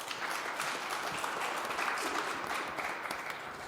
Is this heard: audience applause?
yes